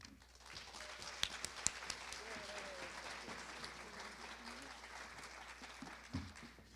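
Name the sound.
audience applause at lecture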